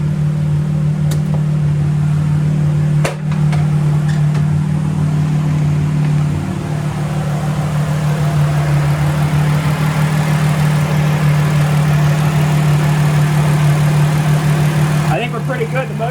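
A Mercedes SLK race car converted into a kart, tuned for nitrous, idling with a steady low engine drone, a couple of sharp mechanical clicks early on and some handling noise near the end.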